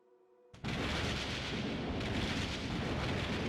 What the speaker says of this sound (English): Thunder booms again, louder than ever.